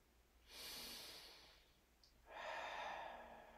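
Two slow, deep breaths during a yoga stretch, a long airy inhale followed after a pause by a fuller exhale, close, quiet and alone with no talking.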